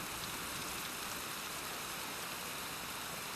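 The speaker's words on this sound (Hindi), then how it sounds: "लगता है बेमौसम बरसात होने वाली है।" Unseasonal rain falls as a soft, even hiss of steady drops, faint and unbroken, with no voices.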